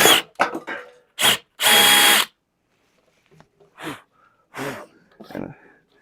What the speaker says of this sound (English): I got my drill bit, my 1/2 inch drill bit, and let's go ahead and start making holes.